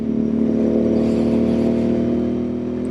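A Royal Enfield INT650 motorcycle with a custom exhaust pipe drones steadily at a held engine speed, a loud, close, even hum with a faint whir and no distinct pops.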